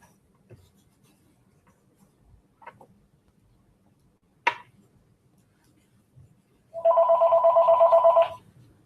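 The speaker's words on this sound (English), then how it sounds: "I have to answer the phone." A telephone rings in a home art studio, one sustained burst of rapid electronic trilling near the end, loud and close, preceded by faint scattered clicks and taps of work at a table.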